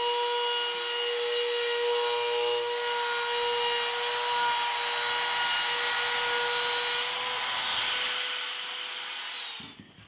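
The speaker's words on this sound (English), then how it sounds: "next I'll run the router along the edge of the board" Router fitted with a chamfer bit cutting along the edge of a poplar board for shoe molding, a loud, steady high-pitched whine close up for about ten seconds before it cuts off abruptly.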